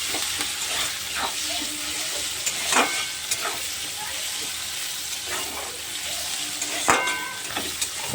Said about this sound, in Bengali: পেঁয়াজ আর কাঁচা লঙ্কাটা একটু লাল লাল করে ভেজে নেবো এবার।